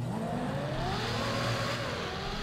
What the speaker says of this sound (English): This car sounds crazy in the tunnel